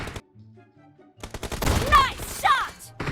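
Shotgun blasts in a team-based shooter video game: a few sharp, loud reports clustered in under a second, with game sounds and brief voice audio mixed in around them.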